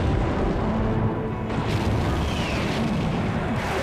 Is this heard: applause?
no